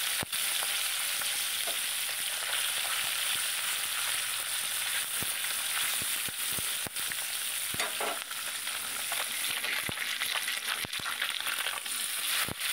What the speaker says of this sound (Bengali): এবার কড়াইতে মাছগুলো দিয়ে দিচ্ছি।